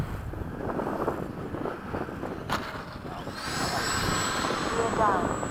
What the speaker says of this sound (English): I gotta do a gear pass over the runway,